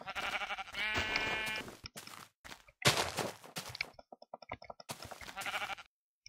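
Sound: sheep bleating in Minecraft video game

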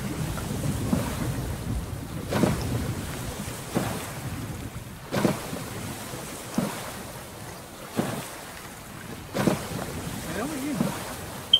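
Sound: thunderstorm over the ocean in the video game Stranded Deep

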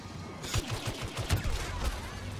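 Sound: blaster laser fire in the video game Star Wars Battlefront

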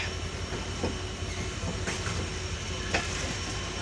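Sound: Nilsagar Express passenger train running at night

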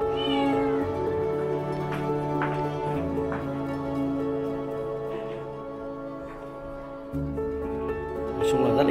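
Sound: cat meowing

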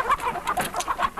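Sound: chickens clucking

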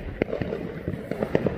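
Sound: fireworks exploding

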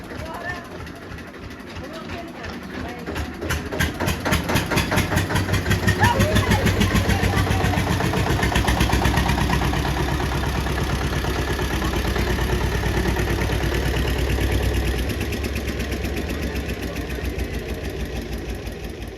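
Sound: tractor engine running

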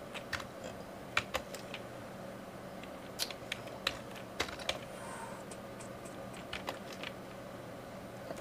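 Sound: typing hex code on computer keyboard

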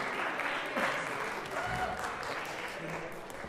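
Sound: audience applause at a degree recital

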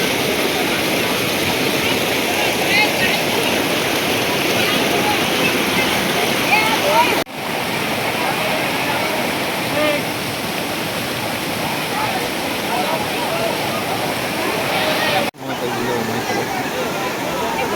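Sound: water flowing in a stream

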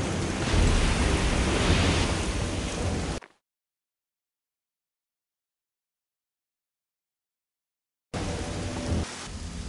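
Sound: thunderstorm with rain in video game Risen 2

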